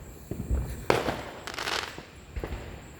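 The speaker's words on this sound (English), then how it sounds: "Let's see the fireworks." Fireworks burst several times in a few seconds, sharp crackling booms of varying loudness heard from outdoors, with faint background voices.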